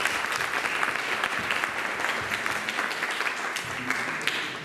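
Dense, steady applause from an audience at a youth camp closing service fills the whole stretch, fairly loud and even, with a faint murmur of voices mixed into the clapping.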